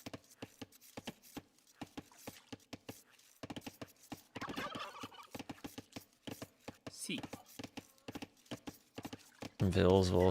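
Turkeys gobbling in an Age of Empires–style strategy game, repeated gobbles mixed with rapid clip-clop hooves and chopping sounds, all under continuous commentary talk.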